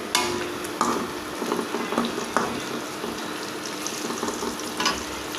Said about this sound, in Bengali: পেঁয়াজ দিয়ে ভেজে নিব,